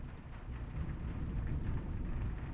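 Rain and rumbling thunder in the PC puzzle game The Room 4: Old Sins, a steady low storm rumble under a soft hiss of rainfall, with no voices.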